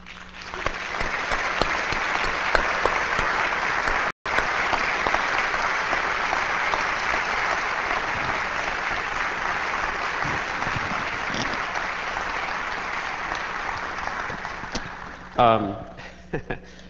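An audience at a 1998 Engelbart symposium session breaks into sustained applause welcoming a panel, a dense, even roar of clapping that holds for many seconds before tapering off.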